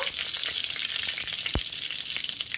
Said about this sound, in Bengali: আমি ফোড়নের জন্য ব্যবহার করব পাঁচ ফোড়ন দিয়ে দিলাম একটা তেজপাতা একটা শুকনো লঙ্কা